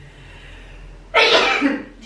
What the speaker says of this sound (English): Do you know that I always sneeze like this in the morning